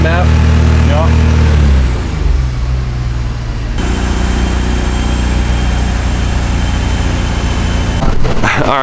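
A car engine on a dyno, run up through the gears with its air-fuel ratios tuned across the map, with a loud sustained drone and rising harmonics that drop away as it shifts, then a final rev near the end.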